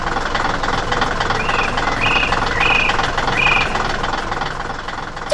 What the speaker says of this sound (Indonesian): Sebuah alat bor spiral sedang bekerja keras di tengah batu dan tanah